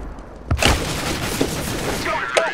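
Counter-Strike: Global Offensive gunfire cracks in a couple of sharp shots amid game noise, with players talking over it.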